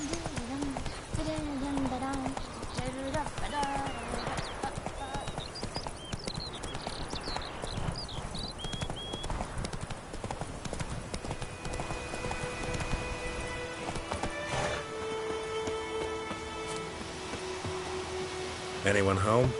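Roach, the horse in The Witcher 3: Wild Hunt, trots with rhythmic clip-clopping hooves alongside other in-game sounds, while a voice is heard over them.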